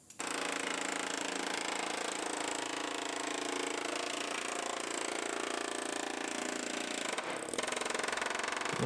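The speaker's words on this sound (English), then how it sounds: "we're chipping out more Bondo than we are metal at this point" A pneumatic chisel hammers Bondo body filler off a rebuilt GMC Terrain car body, a loud, continuous rapid rattle held steady for the whole stretch with only a brief dip near the end, close and dominant.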